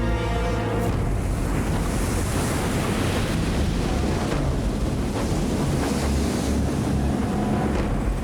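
Heavy waves churn and wind buffets the microphone during a sudden squall at sea, a steady loud roar of surf and gusts aboard a ship with no voices.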